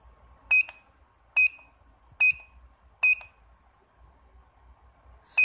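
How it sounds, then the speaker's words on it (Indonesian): A buzzer on an Arduino counter sounds in five short, evenly spaced electronic beeps, bright and clear against near silence. "maka buzzer akan menyala selama 5 detik"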